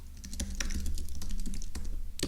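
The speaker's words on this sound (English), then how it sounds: "let me type that" Keys clack on a computer keyboard in a quick, uneven run of close taps, heard alone without any voice.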